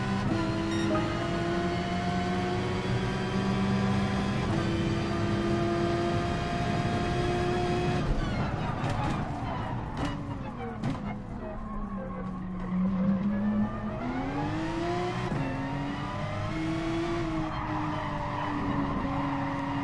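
A Porsche race car in Gran Turismo Sport, a loud continuous engine note rising and falling through gear changes, with repeated tyre squeals and skids through the corners, no talking.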